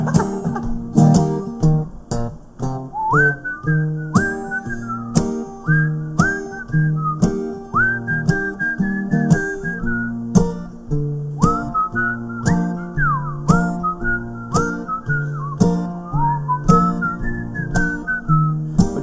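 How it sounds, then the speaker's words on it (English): A person whistles a bouncy melody solo, clear and close, with short repeated phrases and brief pauses between notes. "So it's best just to go with the whistle solo."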